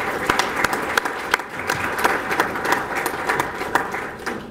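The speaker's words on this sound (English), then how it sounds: "I want all of you to give them a big round of applause for thinking out of the box." Audience applause at an evening reception honoring a governor, a dense steady patter of many hands clapping throughout, with sharp individual claps standing out and faint voices in the background.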